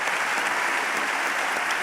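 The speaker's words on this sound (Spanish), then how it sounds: "Un aplauso, por favor." A dense, continuous burst of audience applause welcomes a candidate at a political forum, steady and full throughout the brief moment.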